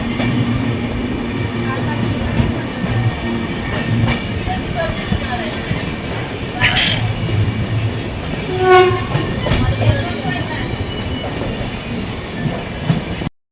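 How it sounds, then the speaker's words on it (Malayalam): A passenger train on the Mangaluru–Yesvantpur route rolls into Banaswadi railway station, heard from inside a carriage with a steady rumble and clatter of wheels, brief horn blasts and squealing, and faint talk nearby. "ട്രെയിൻ ബാൻസ്വാടി റെയിൽവേ സ്റ്റേഷനിലേക്ക് എത്തി."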